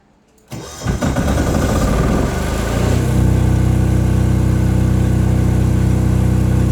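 A Philking diesel generator, triggered by an automatic transfer switch, cranks after a short silence and catches quickly, then settles into a loud, steady close-up running drone that continues to the end.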